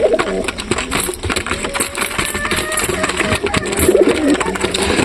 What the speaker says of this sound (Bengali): তো কবুতরগুলো খেতে দিলাম, খুব সুন্দর খাচ্ছে।